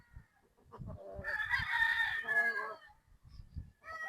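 A three-year-old Boston Sweater gamecock crows once, a long, loud call close by, with soft rustling and clucks before and after.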